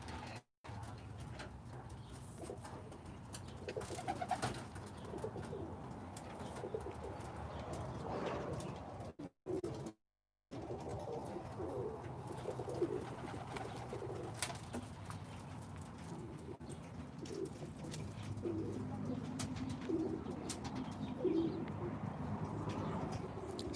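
Roller pigeons coo softly and repeatedly while feeding on grain, faint distant calls over a quiet background with brief dropouts.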